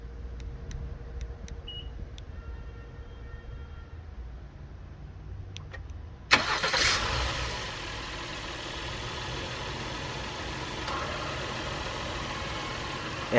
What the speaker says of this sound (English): Now let's go ahead and start the vehicle.